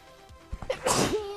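A single sharp sneeze, close and loud, preceded by a couple of quick intakes of breath.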